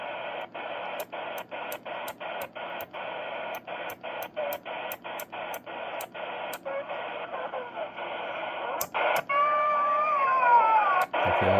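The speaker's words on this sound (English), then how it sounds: "I don't like all that hiss." Steady broadband radio receiver hiss fills the whole stretch while tuning through the weather band, broken by regular brief clicks and ending in warbling whistles and squeals.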